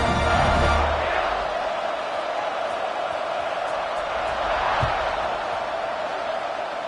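Football stadium crowd at a South Carolina game roaring in a steady, broad wash as the kickoff is set, loudest at the start and holding through, with a dull thud partway.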